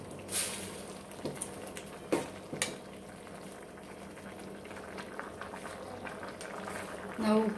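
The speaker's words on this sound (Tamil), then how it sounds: "இந்த அவரைக்கொட்டை வந்து போட்ட பின்னாடி ஒரு கொதி வரட்டுங்க." Kara kuzhambu with broad bean seeds and brinjal boils in a pot, a steady soft bubbling with occasional louder pops and splutters, close by and alone.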